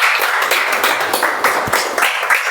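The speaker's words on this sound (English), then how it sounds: "Let's give a big round of applause to Vaishnavi and Jishnu for the speeches." An audience at a speaking-club meeting applauds the speakers, producing a steady, dense patter of many hands clapping together for a few seconds.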